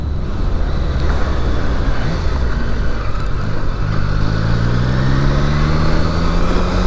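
A Triumph Daytona 660 three-cylinder motorcycle accelerates, its engine note rising through the revs, heard close over strong wind rush.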